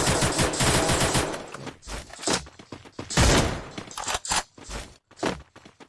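Rapid bursts of automatic gunfire from the Free Fire battle royale game, loud and dense at first, then broken into shorter separate volleys and shots with gaps between them.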